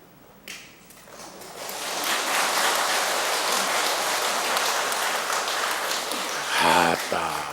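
After a brief knock, an audience at a Buddhist temple sermon breaks into clapping that swells into a steady, sustained round, then fades as a voice begins speaking near the end.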